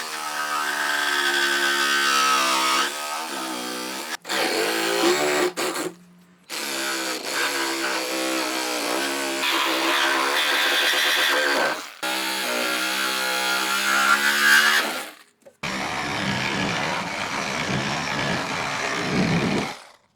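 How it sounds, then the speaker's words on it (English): A Sawzall reciprocating saw cuts through bolts on an old wooden skate box: a loud, whining motor buzz in several long runs broken by short pauses, with a rougher, grittier final burst. "I'm gonna use this Sawzall, this hacksaw, and it's gonna make it much more easier for me to cut it from the side like this"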